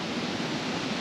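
Ouzoud waterfalls in Morocco pour as a steady, broad roar of falling water, even and continuous through the whole second with no voices over it.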